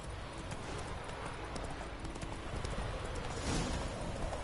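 A horse gallops in The Witcher 3: Wild Hunt, its hooves clip-clopping in a quick, continuous rhythm at moderate distance for a few seconds, with no one talking over it.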